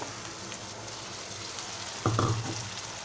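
Sliced tomatoes go into hot oil with fried onion and green chilli for a Malvani-style tomato bhaji: a soft, steady sizzle, then a brief louder burst of hissing as the tomatoes hit the pan.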